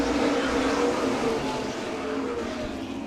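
A pack of modified race cars roars off at the green flag for a 50-lap feature at Owosso Speedway, a loud, sustained engine drone that eases slightly, with a track announcer's voice faintly underneath.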